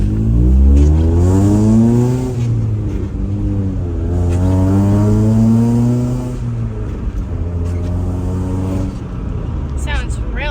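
Engine of a Honda CRX HF car running and revving in rising and falling sweeps, loud and close, with a voice speaking over it now and then.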